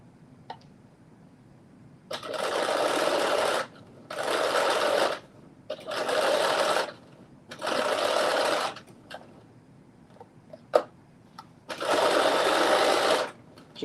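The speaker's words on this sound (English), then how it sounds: "Just stitching this facing on." A domestic sewing machine stitches a facing on a McCall's 8370 garment, running in five steady bursts of about one to two seconds each, close and clear, with short quiet pauses and a few small clicks between runs.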